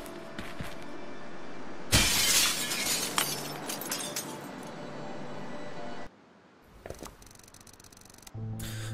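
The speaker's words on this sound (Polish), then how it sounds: "Dobra, możemy użyć rurkę do rozbicia szyby." A glass window smashed with a pipe in a video game: a sudden loud shatter bursts in, followed by several seconds of tinkling, falling shards, then quieter clicks and a few further sharp game sounds.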